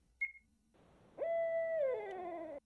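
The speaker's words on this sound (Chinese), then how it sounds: "猫头鹰" A game owl from Buried Barry gives a single drawn-out hoot that slides slightly downward, preceded by a brief chirp, alone over a quiet low background hum.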